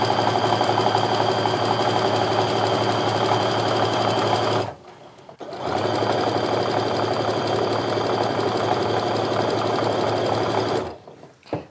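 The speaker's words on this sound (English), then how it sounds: "it's just like sewing a regular strip piece unit where you're going to line your edges up and just sew on down." A sewing machine stitches quilt strip pieces in a steady, loud continuous run, stopping briefly near the middle and again near the end before resuming.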